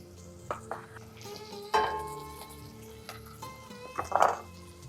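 Cilantro sizzling in a hot pan with garlic as it is stirred, a soft steady frying hiss broken by a few louder scrapes and clatters of a utensil against the pan.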